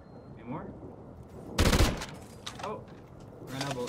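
Gunfire in an online multiplayer video game: a single loud burst of rapid shots rings out in the middle, with players talking quietly before and after it.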